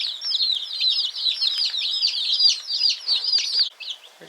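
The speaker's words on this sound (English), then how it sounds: "Look at this chicken coming in." Chickens clucking and chattering close by, a busy continuous stream of calls that thins out near the end.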